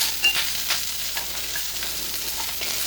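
Garlic cloves frying in a pan for a roasted shrimp mash, a soft steady sizzle with a few light scrapes and taps, close and fairly quiet, no voices.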